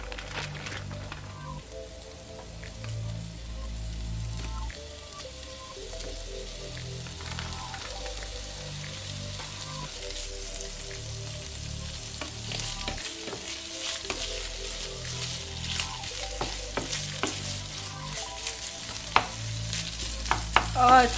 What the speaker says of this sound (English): So now I'm going to use some diced bacon. I'm gonna put them in this pan